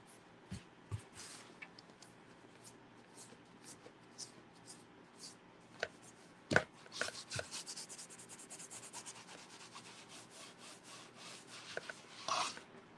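A polishing pad rubs and burnishes an arched canvas craft piece, making soft scratchy strokes that come in irregular bursts, closer and busier toward the end, with occasional light taps.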